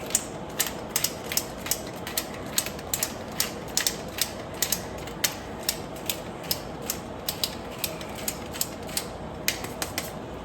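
A pepper or salt grinder seasons meat, a rapid run of close, crisp ratcheting clicks repeating steadily throughout at a quiet level with no speech.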